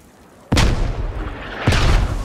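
Two grenade explosions in a video game, each a sharp, loud, close boom followed by a rumbling decay, the second about a second after the first.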